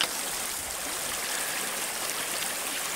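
A mountain stream on a hiking trail rushes steadily between the peaks, a continuous, broad hiss of running water, close and even, with no voices.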